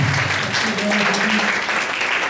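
Applause rises from a prayer meeting crowd, thick continuous clapping at even loudness with some voices and a faint tone underneath.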